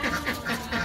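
Village ducks let out to roam, quacking in a rapid run of four nasal calls, close and clear, with no talk.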